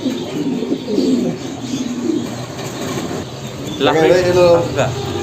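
Lahori pigeons cooing at close range, soft low coos repeating under a voice talking about the birds and their prices, with a louder burst of calling near the end.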